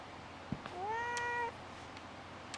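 A cat meows once inside the GLITCH Dead Loop horror video game, a clear rising and falling cry of about a second, with a faint click just before it and nobody talking.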